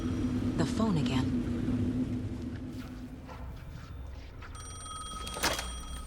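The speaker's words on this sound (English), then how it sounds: "The phone again." A telephone rings in the video game Alan Wake 2, its bright tonal ring rising near the end over a low, rumbling ambient background.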